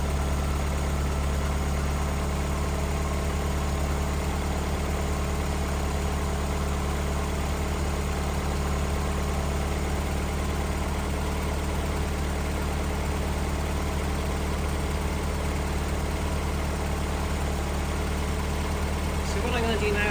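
A Mazda MX-5 engine idles steadily for the whole stretch, a constant low hum with even mechanical vibration and no revving, close by and loud throughout.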